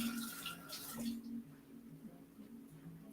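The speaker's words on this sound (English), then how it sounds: "I'm just going to give my hands a rinse." Running tap water in a kitchen as hands are rinsed, a soft splashing hiss that is strongest at the start then thins to quieter trickling, with a voice briefly over it early on.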